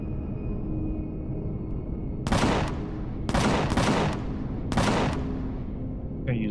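Automatic turrets blast bursts of gunfire at aliens in Empyrion, four loud sharp volleys spaced a second or so apart over a steady background hum, with no talking.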